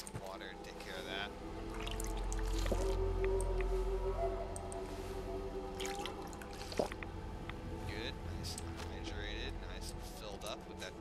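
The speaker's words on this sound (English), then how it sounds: "Let's get some water and take care of that." In Fallout 4, a character drinks pond water, making soft watery gulping and pouring sounds with a low, rumbling game ambience underneath.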